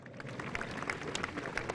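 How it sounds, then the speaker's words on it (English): A crowd applauds a horse-riding stunt display at an outdoor ceremony with President Droupadi Murmu, a dense, steady wash of distant clapping with faint cheers mixed in and no talk over it. "Ladies and gentlemen, this deserves a big round of applause."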